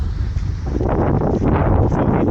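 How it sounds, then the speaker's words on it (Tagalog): Strong storm wind buffets the microphone at a fishing spot in Lupo during a typhoon, a loud continuous roar with gusty rustling surges; someone speaks briefly over it. "Problema lang yung hangin dito."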